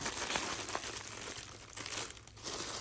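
Paper wrapping around Dior cosmetics, a lip balm and lip maximizer, crinkles and rustles steadily as it is handled up close, with no talking.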